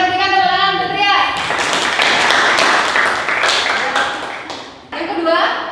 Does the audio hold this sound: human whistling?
no